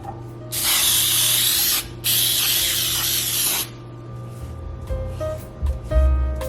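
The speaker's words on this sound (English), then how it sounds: "I'm gonna spray the sides with some baking flour." Baking spray hisses onto the sides of three 9-inch cake pans in two long, close bursts of about a second each, followed by a few soft clinks and knocks of the pans.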